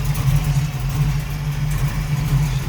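A 1969 Chevrolet Camaro coupe's V8 with headers and cowl induction hood idling smoothly, a close, steady low rumble with an even pulsing hum, no talking.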